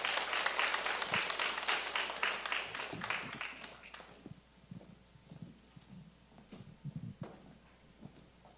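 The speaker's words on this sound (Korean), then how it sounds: "큰 박수로 우리 맞이해 주시면 감사하겠습니다." A church congregation at a women's Wednesday morning worship service applauds in welcome of a speaker, a dense burst of clapping that thins after about four seconds into scattered claps, shuffling and faint murmuring.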